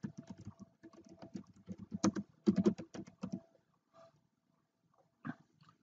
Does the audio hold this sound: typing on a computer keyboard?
yes